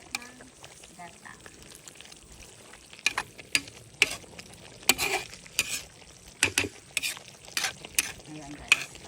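Chicken simmering with malunggay leaves in a pot, stirred in bursts: a spoon scrapes and clacks against the pot several times over a soft bubbling sizzle, with a voice talking faintly in between.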